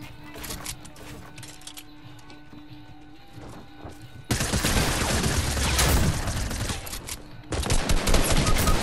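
Rapid bursts of automatic gunfire from a Fortnite battle, crackling and dense, growing louder and heavier in the second half with near-continuous volleys and impacts.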